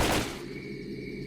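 A single gunshot from a weapon in S.T.A.L.K.E.R. Call of Pripyat, a loud, close burst at the very start that decays quickly into a ringing tail.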